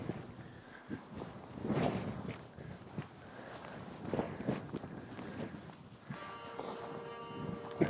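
Cold north-northeast wind blows through a bone-chilling winter walk with a Finnish Spitz, a steady rough rush with gusts and occasional footsteps, and faint tonal sounds near the end.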